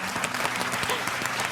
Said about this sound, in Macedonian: Ве молам еден аплауз.